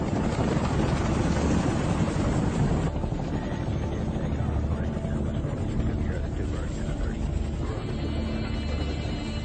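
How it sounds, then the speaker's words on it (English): US military helicopters lift off and fly toward a landing zone, a loud continuous rotor roar with wind buffeting that fills the whole stretch without a break. "the first U.S. choppers lift off and begin the 13-minute flight to the landing zone"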